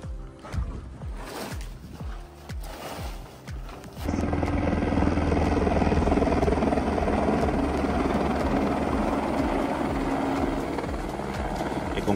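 Helicopter delivering equipment to a high-altitude mountain hut, Rifugio Laghi Gemelli: uneven thumping at first, then a loud, steady rotor roar close by that holds for the remaining eight seconds.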